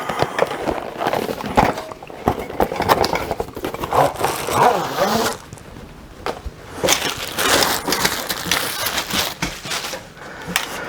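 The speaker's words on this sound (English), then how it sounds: "Sorry about the noise, my cat is playing in the box I just tossed behind me." Rustling, scraping and thumping noises of a cat scrabbling around inside a cardboard box, close by, irregular bursts continuing throughout with no talking.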